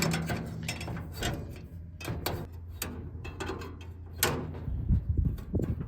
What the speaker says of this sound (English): So once we get it loose, we can use our regular wrench.